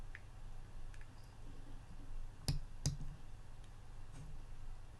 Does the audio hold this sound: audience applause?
no